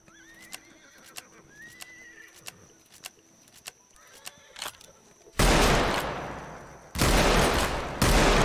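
Gunfire in the Roblox Wild West game, loud rapid bursts of shots arriving in three heavy volleys, following a stretch of horse hoofbeats, neighing and sparse clicks.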